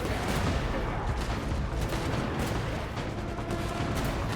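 Rapid gunfire with heavy recoil in Genshin Impact, a continuous loud volley of overlapping shots and booms for several seconds.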